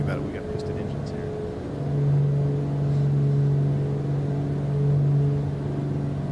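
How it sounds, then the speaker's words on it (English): Piston engines of a Duke BE60 twin in Microsoft Flight Simulator 2024 drone steadily from the cabin at altitude, a low continuous hum that swells slightly midway, with a person talking over it. "We got piston engines here."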